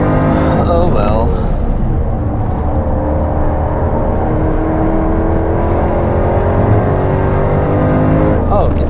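Jaguar F-Type engine at the Nürburgring, a loud sustained drone with rising and falling revs and gear changes, a voice briefly speaking over it at the start and end.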